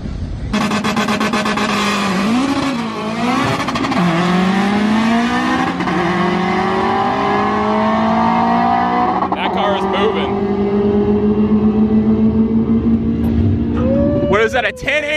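A 600 hp stock K20 all-wheel-drive Honda Civic sedan on street tires makes a drag racing pass, engine screaming loudly as it climbs through gears with brief shift dips, rising to a sustained high-rpm roar before backing off near the end.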